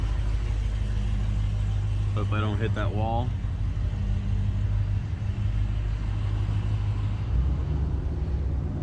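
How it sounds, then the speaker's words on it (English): Dodge Challenger Scat Pack exhaust held in first gear on the road, a steady low engine rumble running throughout with windows down, while someone briefly speaks over it. "roll down the windows and get driving so you guys can hear this exhaust."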